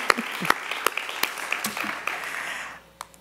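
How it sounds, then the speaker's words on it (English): Audience applause at a feminism award event in Boston, a short burst of scattered clapping with distinct individual claps that thins out and stops near the end. "I think we all deserve a hand of applause for being here."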